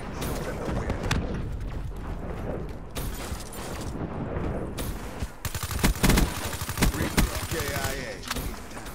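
Video game gunfire crackles in dense bursts and volleys, with a few sharper close shots near the end, layered under constant game noise and background voices.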